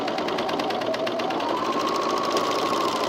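A sewing machine stitches a men's raglan shirt, a fast, even mechanical whir with rapid needle ticking that runs steadily and close throughout.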